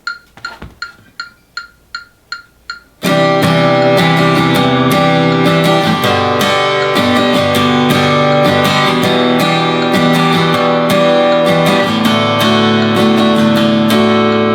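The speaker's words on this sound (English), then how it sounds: "then I could do a simple strumming pattern like this" Seven sharp metronome clicks at 160 BPM count in alone, then steady acoustic guitar strumming joins at a brisk tempo, loud and full, with clicks continuing underneath.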